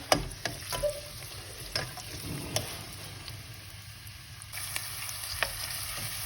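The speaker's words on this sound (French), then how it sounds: "Un peu de l'huile d'olive. Et là, l'oignon. Je vais les faire revenir." Chopped onion sizzling and being stirred in olive oil in a pan, a steady soft frying hiss with occasional sharp spatula scrapes and clicks, close by and fairly quiet.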